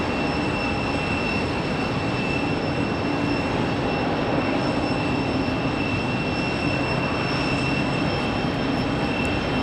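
A Frontier Airlines jet bound for LaGuardia sits near the runway end at Raleigh-Durham, its engines giving a steady whining hum with sustained tonal whistles over a constant rumble, unchanging throughout.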